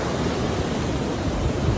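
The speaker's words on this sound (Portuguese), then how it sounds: "ao som do mar profundo" Deep sea waves as a dense, steady roar of surf-like noise, loud and unbroken, with no voices.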